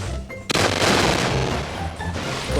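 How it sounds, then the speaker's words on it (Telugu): A car blows up in a video game: a sudden loud blast that rolls into a sustained, crackling burst of debris and fire for about two seconds. "అరే కారు పేలిపోయింది."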